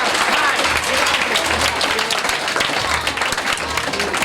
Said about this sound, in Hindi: तालियां बजाओ भाई जोरदार